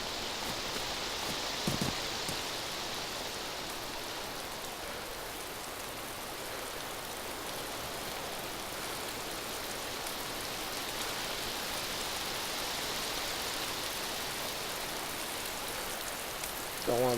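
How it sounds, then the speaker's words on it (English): Rain in the video game DayZ, a steady broadband patter that holds evenly throughout with no pauses, with a faint bump near the start and another at the very end. "And it's raining."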